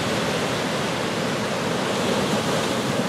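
Ocean waves wash steadily onto the beach at Port Ouest, Réunion, a continuous broad surf roar with no distinct breaks, fairly close and alone.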